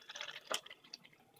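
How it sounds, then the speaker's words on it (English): Milk poured into a shaker for a BSN Syntha-6 protein shake, a faint liquid trickle with one sharper drip-like splash partway through. "I'm going to add milk to get that extra 8 grams per serving"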